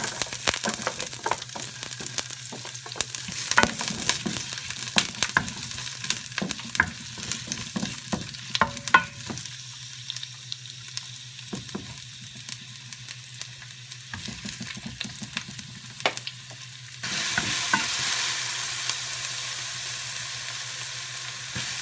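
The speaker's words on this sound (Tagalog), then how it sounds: "Painitin natin ang mantika bago tayo mag-isa. Gisa na natin yung sibuyas." Onions sautéing in hot oil for chicken afritada, a steady close sizzle broken by frequent scraping stirs of a spatula against the pan, the frying swelling louder near the end, with no talking.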